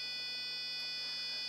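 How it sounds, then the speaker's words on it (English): Steady electronic buzzer tone from the test routine on a Danger Shield electronics board, a continuous high-pitched beep with layered harmonics holding for the full moment at moderate level, no talking. "Now that's the buzzer test."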